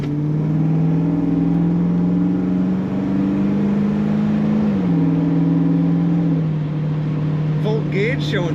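Steady engine drone from a 1970 Chevrolet Camaro Z28 exhaust, a sustained low note that holds, dips slightly and settles, loud and close throughout, with faint clicks near the end.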